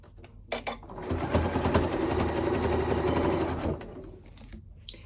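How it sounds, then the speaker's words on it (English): Sewing machine stitching a Christmas stocking with wadding layered on both sides, a fast, steady mechanical whirr running for about two and a half seconds, close and loud, framed by a few soft clicks, with no talking. "I'm still using that slightly longer stitch length because I have the wadding on both sides"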